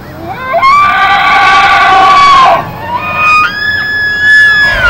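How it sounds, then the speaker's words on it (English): A Tule elk bull bugling during the rut, a loud, high, rising whistle that holds steady and then breaks off, followed by a second, thinner whistling call, close and clear over faint outdoor background. "what you just heard there was a bugle or a whistle"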